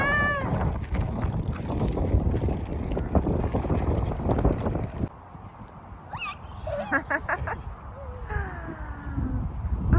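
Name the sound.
strong wind outdoors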